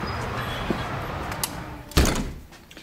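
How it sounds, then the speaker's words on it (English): An office storage room door swings shut with a solid thud, one clear impact and a short rattle standing out over steady room hum, fairly close. "let me shut the door here."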